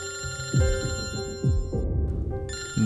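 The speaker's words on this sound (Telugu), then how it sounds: "డాక్టరే ఫోన్ చేస్తున్నాడు." A telephone ringing in repeated electronic bursts over a steady background tone, fairly loud and near.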